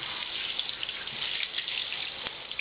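Running water pours steadily over a knitted bamboo yarn hat being rinsed in a sink, a close, continuous gushing splash with no talking.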